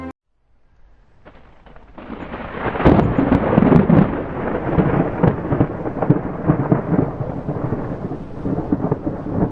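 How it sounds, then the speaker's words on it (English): Heavy rain and a thunderstorm: after a faint start, the downpour swells around two seconds into a loud, steady roar with rolling thunder, sustained to the end. "Rain hammered the asphalt like fists."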